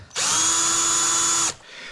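A power drill runs at a steady high-pitched whine for just over a second, close and loud, then cuts off.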